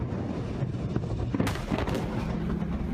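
A loud, rumbling blast with a sharp burst about halfway through, over a continuous low roar of rolling booms and debris.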